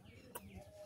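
Chickens cluck in a rural Punjab setting, with soft repeated low clucks running through the second and a brief sharper squawk near the middle, close by and moderately loud.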